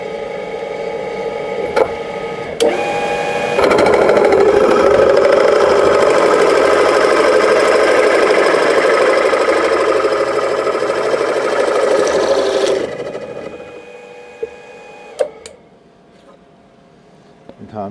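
A power drill with a Forstner bit whirs and grinds steadily through a wooden board for several seconds, with a few clicks and knocks before and after the run.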